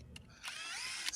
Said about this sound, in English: So let's drill some holes real quick.